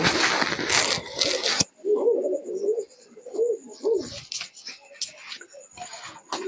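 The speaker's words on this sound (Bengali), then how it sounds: "এই হচ্ছে পশ্চিমা কালসিরার জোড়া" A pair of Western Kalshira pigeons coo in repeated soft, throaty phrases at close range, after a brief burst of loud handling noise at the start; quiet ticking and faint background sounds run beneath.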